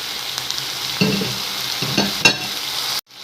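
Diced tomatoes frying in a pan for Turkish-style shakshuka, a continuous close sizzle with a few soft stirring clunks and scrapes, ending abruptly.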